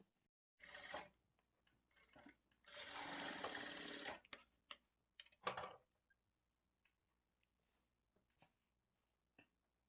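Sewing machine stitching a seam on women's straight-cut trousers, running in short bursts with one longer steady run in the middle, separated by quiet pauses and small clicks of handling.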